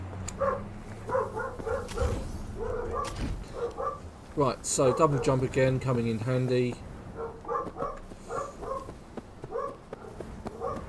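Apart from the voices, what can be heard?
dogs barking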